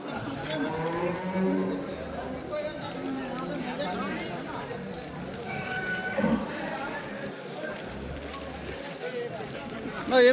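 Cows moo repeatedly at a busy Sunday cattle market in Chintamani on a stormy, rainy day, with long low calls over a constant crowd murmur and scattered voices.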